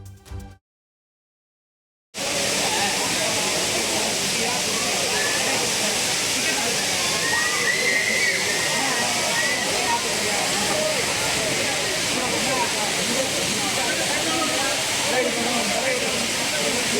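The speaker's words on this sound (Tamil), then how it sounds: "அனைத்து அருவிகளிலும் நீர்வரத்து மிதமாக காணப்படுகிறது" Courtallam waterfall flows in a loud, dense, unbroken roar after a brief silent gap at the start, sustained and even with no voices.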